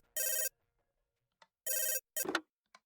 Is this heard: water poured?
no